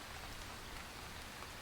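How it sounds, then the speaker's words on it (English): Steady rain falls in the survival video game This Land is My Land, a soft, even hiss of drops on surfaces with no other sounds over it. "It looks like the rains are easing off, which is lovely."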